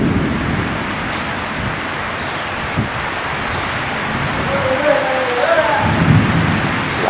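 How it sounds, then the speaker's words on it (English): Steady rain in Playa del Carmen, Mexico hisses across the whole stretch, with a low rumble of distant thunder building near the end. "Little rain."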